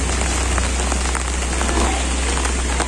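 Rain falling steadily outdoors at a foggy resort and restaurant, a dense loud hiss of drops on surfaces with a constant low hum underneath, no talk.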